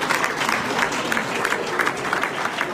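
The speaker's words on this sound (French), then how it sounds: "applaudissons très très fort" Steady applause from a concert audience in a large hall, a dense continuous wash of clapping at even loudness throughout.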